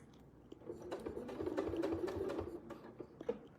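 A sewing machine overstitches a quilt seam guided by a Westalee Sashlee quilting template, a short, quiet run of rapid ticking stitches between faint clicks.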